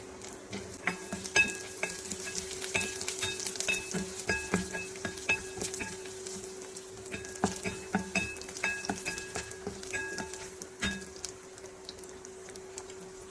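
Peanuts and browned onions fry in a pan, with a steady sizzle under repeated clinking stirs and scrapes in short bursts. A constant tonal hum runs beneath.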